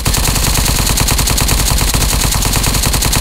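Sustained automatic gunfire in the Roblox video game Apocalypse Rising 2, a loud, rapid, evenly spaced stream of shots that continues without pause.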